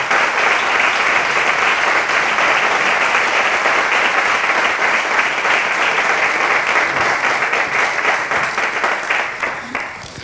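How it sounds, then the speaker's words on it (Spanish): A large audience at a Spanish tertulia gathering breaks into strong, sustained applause, a thick wash of clapping at full level that starts to fade toward the end. "Me gustaría que le diéramos un aplauso a ambos,"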